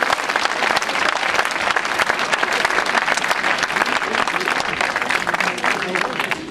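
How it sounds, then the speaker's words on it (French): Crowd applauding cyclist Laurent Le Gac on the podium at an Essor Breton 2010 stage between Quéven and Bodilis, loud sustained clapping close by, with voices mixed into the cheering throughout. "Applaudissements"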